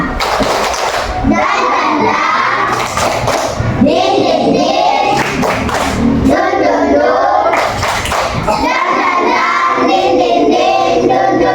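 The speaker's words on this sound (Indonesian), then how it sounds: "Nah, kita tepuk semangat dulu." A fourth-grade class does a rhythmic clap-and-chant cheer, with children's voices shouting in unison between bursts of hand claps and thumps. The sound is loud and close, repeating in patterned phrases.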